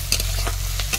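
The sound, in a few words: frying prawns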